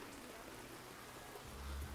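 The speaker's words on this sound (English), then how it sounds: "it's raining so much that our black tent has been infiltrated by the weather" Heavy rain pours down at an outdoor beach volleyball match, a dense steady hiss of drops drumming on a tent roof, with a low rumble swelling near the end.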